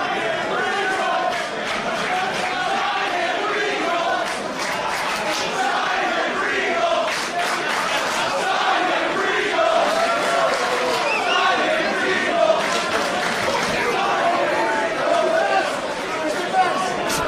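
Wrestling crowd at a GCW Bloodsport event chants in rhythmic bursts, a dense roar of voices and shouting that swells and pulses throughout, with commentary speech mixed in.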